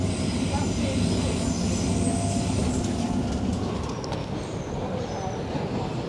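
Continuous rumble and rattle inside a moving London passenger train, a steady low roar with faint clatter, close and enveloping throughout.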